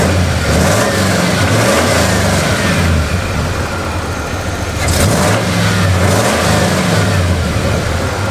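A worn-out Ford F250 engine runs loudly near the listener, revving up in two distinct surges with a steady rumbling idle between them, just after repair.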